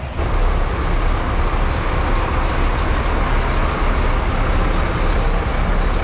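A bus engine idles at a bus stop, a loud, dense, steady rumble that fills the clip without pause and with no voices over it.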